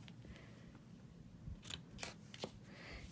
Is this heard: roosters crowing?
no